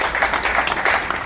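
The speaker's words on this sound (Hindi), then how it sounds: "जोरदार तालियों से एक बार इनका स्वागत है।" Loud, close crowd applause welcoming guests at a village gathering, a short burst of dense clapping.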